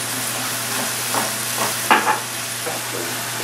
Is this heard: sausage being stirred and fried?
yes